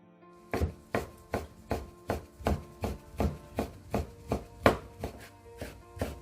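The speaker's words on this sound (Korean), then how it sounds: "대추를 돌려깎기해서 채를 썰어줄게요" A knife cuts jujubes into thin strips on a cutting board, about a dozen evenly spaced, crisp taps at a steady rhythm, close by with no talking.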